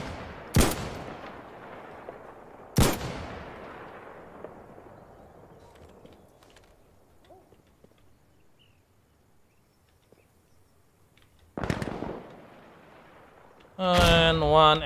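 Sharp, isolated rifle shots from an M1 Garand in the shooter game Insurgency Sandstorm: two close cracks early with long decaying tails, a third later, then a burst of other game sounds at the end.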